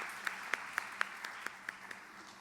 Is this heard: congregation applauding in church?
yes